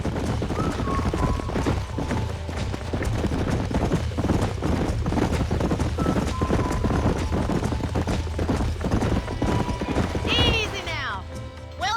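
Horses in the Red Dead Redemption video game, with rhythmic clip-clop hoofbeats across dirt near a ranch, then a loud whinny near the end, under ambient game sound.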